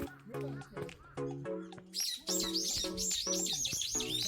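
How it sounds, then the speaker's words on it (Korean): Small birds chirp and tweet in quick, bright bursts, fairly close, on Chodo island off Tongyeong, South Korea, while people talk intermittently over them. "새소리"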